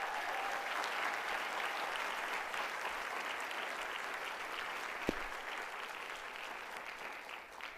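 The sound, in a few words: applause at a convocation ceremony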